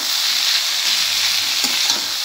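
A bean and gourd-peel bhaji fries in a pan with a loud, steady hiss of sizzling oil, and a soft knock from a spatula breaks in briefly near the end.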